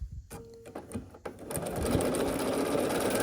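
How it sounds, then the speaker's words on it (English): Sewing machine stitching half-square quilt triangles with a quarter-inch seam, starting with a few hesitant clicks before settling into a steady, close, continuous whirring run. "And sewing with a 1/4 inch seam allowance"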